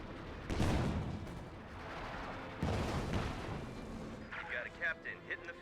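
Artillery fire in Company of Heroes 2 during a cast match: heavy booming blasts and rumbling impacts land in two big waves, followed by smaller crackling hits, under a commentator's voice.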